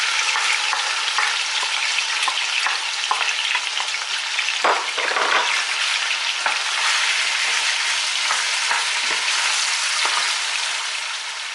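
Chicken thighs fry steadily in a pan with pepper and onion, a loud continuous sizzle broken by occasional stirring scrapes, with no voices.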